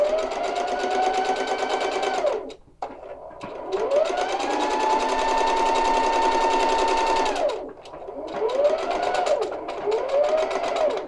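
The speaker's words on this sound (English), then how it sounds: "So as I'm sewing down this middle, I'm just keeping these edges lined up with the needle plate." A sewing machine stitches down the middle of a fabric belt for a tie jacket, running in long steady whirring bursts with short pauses between them and a slight rise and fall in motor speed.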